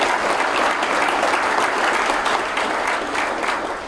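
A conference audience of firefighters applauds, dense sustained clapping from a large crowd that holds strong for a few seconds and then gradually tapers off.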